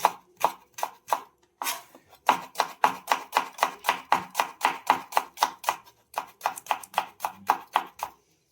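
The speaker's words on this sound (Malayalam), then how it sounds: "ഈ സവോള നമ്മൾ ജൂലിയനായിട്ട് തന്നെ അരിയുവാണ്." Quick, steady knife strokes on a cutting board as an onion is sliced into thin strips, a close, crisp run of chops with a brief pause early on.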